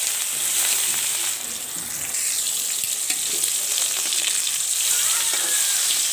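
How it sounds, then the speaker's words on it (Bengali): Fish seasoned with turmeric, chili and salt frying in oil in a pan, a dense, loud, continuous sizzle with faint spatters throughout, close up and without speech. "দেখুন মধ্যে যে মাছ ভেজে নিচ্ছে।"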